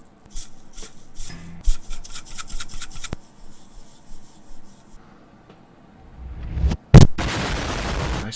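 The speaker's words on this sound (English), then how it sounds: "I sprayed that right onto my mic." An aerosol spray can fires directly onto a microphone: a loud, close burst of broadband hissing near the end, preceded by scattered rubbing and clattering handling noises.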